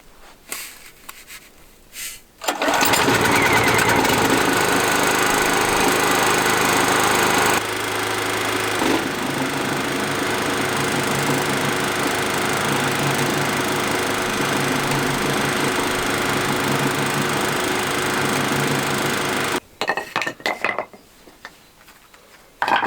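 A motorised cement mixer starts up and churns a sand and cement mix for a natural stone patio at a barn in Portugal, a loud steady rumble that runs for most of the clip before cutting off.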